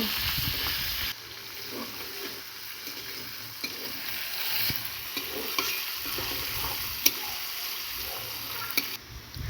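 Chopped onion and curry leaves fry in hot oil while a spatula stirs them, a continuous close sizzle broken by scraping strokes and occasional sharp taps against the pan, with no talking.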